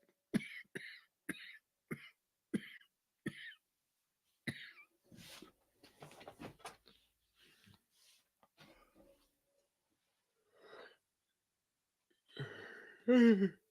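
A man coughs repeatedly in short sharp bursts at first, then gives scattered fainter coughs and breaths, ending in a louder throaty cough and throat clearing.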